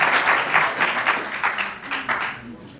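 A church congregation applauds during a Sunday sermon, a short burst of clapping with distinct individual claps that fades near the end before a sudden loud sound.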